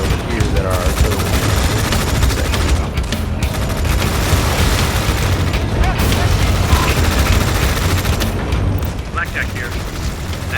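Dense, continuous battlefield gunfire and booming explosions roar from a Tom Clancy's EndWar campaign battle, loud and sustained, with voiced radio chatter running over the combat.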